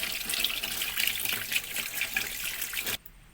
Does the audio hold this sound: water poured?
yes